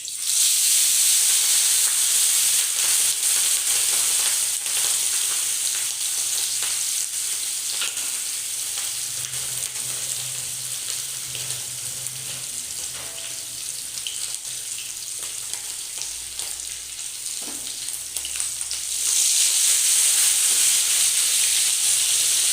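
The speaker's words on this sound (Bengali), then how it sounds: "আস্তে আস্তে মাছগুলো আমি কড়াইয়ের মধ্যে দিয়ে দিলাম।" Bata fish frying in smoking-hot oil in a kadai, a loud, steady, hissing sizzle close by that softens slightly midway, then swells again near the end.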